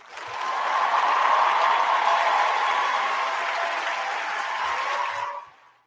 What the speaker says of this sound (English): give Sheriff Grady a round of applause, guys.